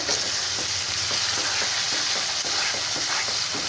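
Spices (cumin, turmeric and Kashmiri chilli powder) sizzling and being stirred in a hot pan for chicken fry biryani, a steady close frying hiss with repeated scraping strokes of the spoon, no voices.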